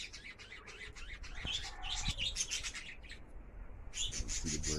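Pigeons at a loft on a rainy day chirp and call in scattered bursts, with a scraping, rubbing noise running underneath and no talk.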